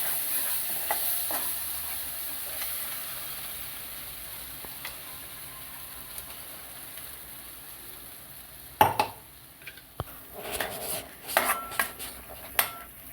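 Masala paste with red chilli powder, turmeric, hing and paneer masala frying in hot oil for matar paneer, a steady close sizzle with a few sharp clinks and stirring scrapes toward the end.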